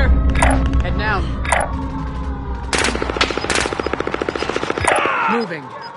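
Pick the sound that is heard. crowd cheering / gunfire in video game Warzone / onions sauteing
gunfire in video game Warzone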